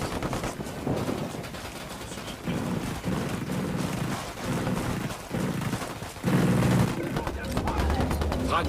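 Bursts of automatic gunfire in Ghost Recon Wildlands rattle in rapid, overlapping volleys, loud and continuous with short dips between strings of shots, mixed with game ambience.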